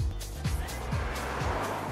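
A Honda SUV with a 2-litre engine is driven hard, its engine note climbing and dropping repeatedly as it revs through gear changes, loud and close, with tire noise beneath.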